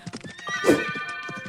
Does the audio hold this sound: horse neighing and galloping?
yes